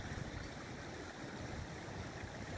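Fast-flowing river running high after heavy rain, a constant rushing, gurgling wash of water heard alone at moderate level.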